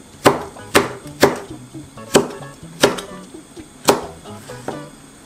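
A knife chops half a chili pepper on a cutting board while mackerel stew is prepared: about eight sharp, close thuds in an uneven, steady rhythm, with no talking.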